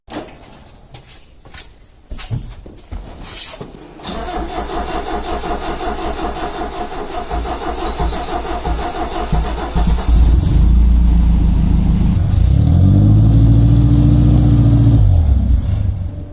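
A 1976 Toyota Celica RA29, rusty, is opened up with a few clunks before the engine cranks and catches, then runs loudly close by with rising and falling revs.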